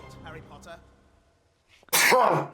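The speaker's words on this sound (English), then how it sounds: "That's a good luck sneeze." A single loud, sharp sneeze bursts out near the end, close to the microphone, after a stretch of quiet talk.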